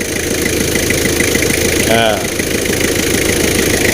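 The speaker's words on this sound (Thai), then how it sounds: "ฟังเสียงเครื่องนะ คันนี้เครื่องดีมากมากเลย" A steady, low engine idle from a Toyota Mighty-X pickup truck rumbles continuously, with a brief higher tonal sweep near the middle and faint background noise throughout.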